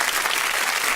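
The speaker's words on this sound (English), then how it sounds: "Let's give this young man a round of applause." Dense crowd applause, a continuous wash of many hands clapping at steady loudness throughout a brief moment on a radio broadcast.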